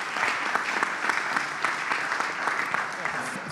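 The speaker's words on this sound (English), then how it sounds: "Could you all give me a round of applause for the group here?" A conference audience applauds an energy policy panel, producing continuous moderate clapping that fills the room evenly from start to finish.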